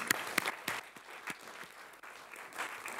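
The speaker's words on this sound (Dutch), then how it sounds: "Mag dat we gaan jou een hartelijk applaus geven?" An audience at a conference on language and health gives a warm round of applause: scattered, moderately near clapping with distinct individual claps, fairly light and uneven, with no talking over it.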